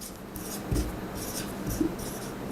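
A pen writes a number in the margin of a page, a soft close scratching with a couple of firmer strokes against a quiet background.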